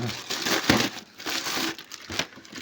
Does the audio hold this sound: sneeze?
no